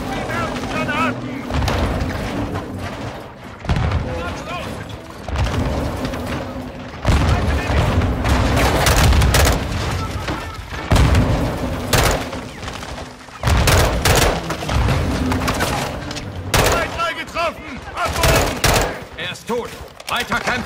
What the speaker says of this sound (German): Beschuss! In Deckung! Wir werfen Granaten!